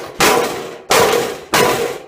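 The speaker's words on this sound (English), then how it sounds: "What you gotta do is you gotta hammer them." A hammer strikes nuts and bolts on a computer tower in three loud, evenly spaced blows, each ringing out and decaying before the next, with no talk.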